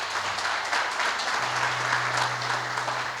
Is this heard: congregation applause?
yes